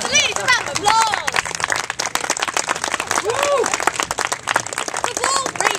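An audience applauds and cheers at a stage performance, a dense clapping crowd with whoops and voices rising over it, loud and continuous throughout.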